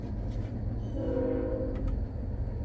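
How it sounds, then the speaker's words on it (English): A train rumbles past in the distance with a steady low roar, a sustained horn-like tone sounding briefly in the middle, heard while testing the distributor of a 1966 Chevy Nova. "got a train driving by"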